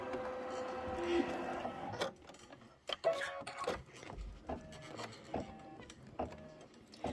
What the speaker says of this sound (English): we're going to go ahead and just hit start and let it do its quilting